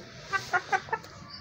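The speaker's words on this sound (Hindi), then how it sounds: "ये मुर्गी ने अंडा देना," A hen clucks while searching for a spot to lay an egg: four short, close clucks in an even rhythm, then quiet farmyard background.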